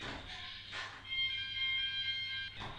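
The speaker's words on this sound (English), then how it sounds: "I think there's an actual fire alarm." A fire alarm sounds indoors with a steady electronic tone, loud and continuous for about two seconds, with brief bursts of people talking in between.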